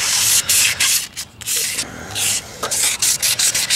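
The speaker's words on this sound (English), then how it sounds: "So I'm gonna go ahead and sand that off." A car headlight lens being hand-sanded in small circular motions, a loud continuous gritty rubbing that pulses in short strokes with brief pauses, close and alone.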